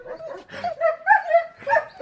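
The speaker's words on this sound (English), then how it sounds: "All right, so the dogs are being the dogs, right?" Dogs bark and yip in short, close bursts with whimpering tones between them, loud and alone without talk.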